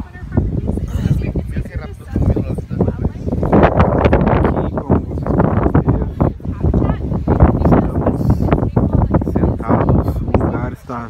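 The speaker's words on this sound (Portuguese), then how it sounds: "Ventando bastante, então provavelmente vai ficar com ruído no vídeo" Strong, unusual wind buffets the microphone outdoors with steady, loud rumbling gusts throughout, mostly masking the talk of a group of people nearby.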